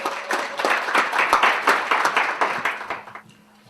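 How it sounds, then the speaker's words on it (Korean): An audience at a community meeting claps to welcome a speaker, a short burst of distinct hand claps in a room, fading out after about three seconds. "큰 박수로 맞이해 주시기 바랍니다"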